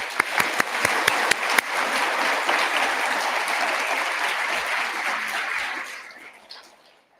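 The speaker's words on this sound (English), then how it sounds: "So how about we give them a round of applause?" Crowd applauding volunteers and mentors at a national seminar opening ceremony, a loud dense roar of clapping with a few sharp individual claps at first, holding steady before tapering off and fading out near the end.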